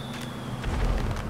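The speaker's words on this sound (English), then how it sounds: "I'm quickly launching a few fireworks." Fireworks launch in a video game with a soft thump followed by a deep, rumbling boom that swells partway through, short and close, with no talking.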